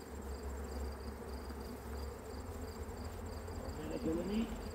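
Honeybee colony in an opened nucleus hive, a steady low insect buzz running throughout at moderate level, with a faint higher whine and a brief louder swell near the end.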